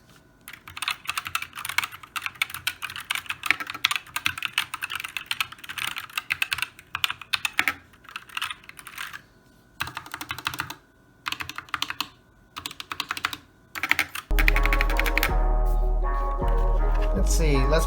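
Keys on a customized mechanical keyboard clack in quick, uneven bursts of typing with short pauses, close and crisp, before a loud musical passage takes over near the end.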